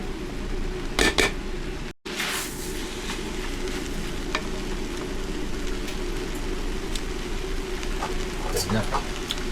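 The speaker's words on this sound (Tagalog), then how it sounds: "Lutuin ko lang yung mga gulay." Vegetables such as chayote, squash and cabbage sizzle and fry in a pan, with steady crackling, a few utensil clinks and stirring, while a person talks over the cooking.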